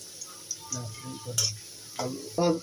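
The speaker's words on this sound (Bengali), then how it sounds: "নাড়াচাড়া করে দেবো যাতে পুড়ে না যায়" Potatoes frying in a pan are stirred with a utensil, making soft scraping knocks over a light sizzle, with brief talk in between.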